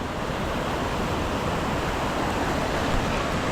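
Clear river water rushes steadily over and around large boulders on the Murti river at Rocky Island near Samsing, a continuous broadband roar close by with no pauses.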